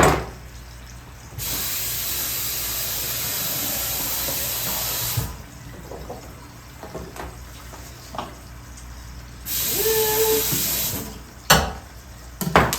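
Kitchen tap gushing into a sink while something is rinsed off during cooking, in several loud bursts of running water with short pauses and clatter between them.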